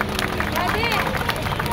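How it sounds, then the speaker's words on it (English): A street crowd on Orchard Road in Singapore at Christmas applauds a busker, a brief burst of clapping mixed with crowd babble and voices, fairly close and continuous. "can you just get one more round of applause just for that?"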